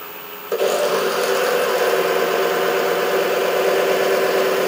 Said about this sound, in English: We need to lower the tool rest and again reduce the speed of the lathe to about 800 RPM.